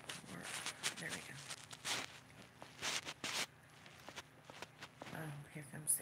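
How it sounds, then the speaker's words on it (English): Small pet footsteps pattering closer indoors, a series of light, quick steps mixed with rustling and faint voices in the background. "I can hear her little footprints, her footsteps."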